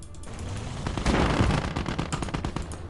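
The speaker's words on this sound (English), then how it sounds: "here we've got the 20mm flak getting some aggravation" Bursts of 20mm flak gunfire in the World War II game Call to Arms: Gates of Hell, sharp rapid reports cracking in a loud cluster over a rumbling battlefield backdrop.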